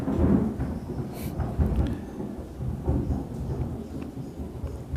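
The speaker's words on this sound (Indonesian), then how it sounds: "Petir mulai datang lagi." Low, rolling thunder rumbles through a storm, swelling and fading across several seconds over a faint hiss of rain.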